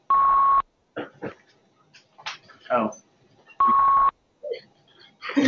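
An electronic device gives two loud, steady one-tone beeps a few seconds apart, each lasting about half a second, while people talk nearby in between.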